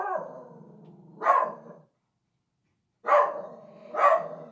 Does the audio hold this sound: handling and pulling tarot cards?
no